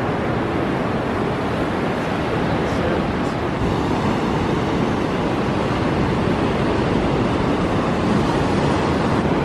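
Ocean waves break on a surf beach at La Union, a loud, continuous wash of surf mixed with rushing wind across the microphone.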